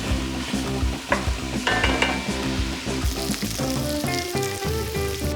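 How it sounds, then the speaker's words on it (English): Vegetables sauté in a pan as the base for braised short ribs: a dense, continuous sizzle with frequent stirring scrapes and clatter, close and fairly loud. "We're gonna saute these down and then we'll start adding the other ingredients."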